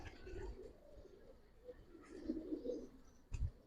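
Giribaz pigeons coo and call repeatedly in a loft, soft low murmuring coos rising and falling over faint background noise, with a sharp thump near the end.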